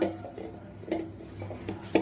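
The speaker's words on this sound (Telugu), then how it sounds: "ఇప్పుడు పాలు వేసి మిక్స్ చేస్తాను" Milk is mixed into crumbled browned bread for gulab jamun, with soft scraping and light clinks of a spoon against a metal bowl in short, irregular strokes, quiet and close.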